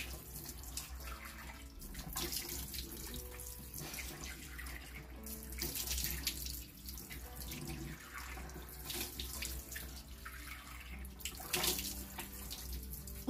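Tap water runs steadily into a sink while someone washes their face, a continuous close splashing stream with small surges and swells and no talking.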